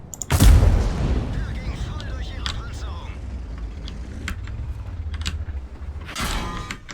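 Tank cannon shots trading back and forth in the World of Tanks game, with a loud booming blast near the start and another near the end, separated by a rumbling battle bed with scattered clicks.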